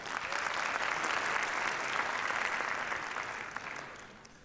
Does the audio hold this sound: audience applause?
yes